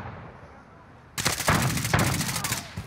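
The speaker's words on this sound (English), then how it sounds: "I shot her leg under the damn vehicle." Rapid burst of video game gunfire breaks in after a quiet stretch, loud and close, a stuttering volley of shots lasting under two seconds.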